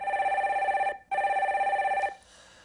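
A telephone rings for an incoming caller on a Korean stock-market call-in broadcast: two loud, steady electronic trilling rings, close and clear, separated by a short gap. The second ring cuts off abruptly and leaves faint room noise.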